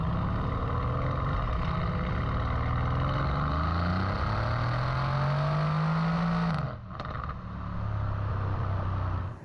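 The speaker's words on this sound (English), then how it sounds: "It is just that note coming from the exhaust at the back." Mercedes-Benz C63 estate with the 2016 4.0 V8 accelerating, its exhaust note climbing steadily in pitch for several seconds before a gear change dip, then building again, fairly faint as heard from inside.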